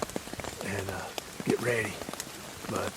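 Steady rain patters on umbrellas held over hunters in a deer stand, a constant close hiss of drops, while someone talks quietly beneath it.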